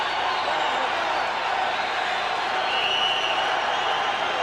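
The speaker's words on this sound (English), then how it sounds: "And the crowd really comes alive." A boxing arena crowd keeps up a dense, steady roar of cheering and applause, with a commentator talking over the noise.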